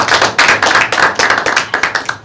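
A lecture audience claps to welcome economist Mike Munger before his talk on market failure and sensible regulation, a fairly close burst of overlapping hand claps with uneven rhythmic swells and no voices.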